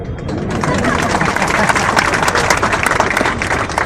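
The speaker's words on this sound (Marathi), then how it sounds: "तुम्ही आता तिसऱ्यांदा जर इथे येऊन बोललात तरी टाळ्या होतील." A crowd applauds a political speech in Kandhar, dense sustained clapping from many hands at a loud, even level throughout.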